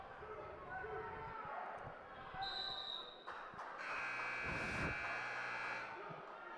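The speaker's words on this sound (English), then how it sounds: "That buzzer is for the third place match" Buzzer at a wrestling tournament signalling the third place match, a steady electronic tone sounding over crowd noise and commentary during a live bout.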